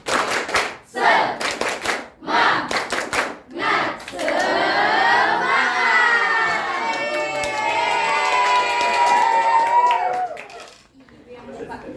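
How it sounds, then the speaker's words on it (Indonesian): A university microteaching class performs a rhythmic spirit clap: several short bursts of group handclaps in a patterned beat, followed by the students loudly chanting and shouting together in unison. "Kita mulai ya. Tepuk semangat."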